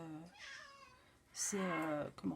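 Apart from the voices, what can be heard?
cat meowing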